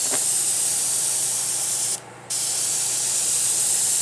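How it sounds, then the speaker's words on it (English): A Timbertech airbrush sprays paint in a loud, continuous close hiss that breaks off for a moment partway through, then resumes just as steadily. "The airbrush isn't working too bad."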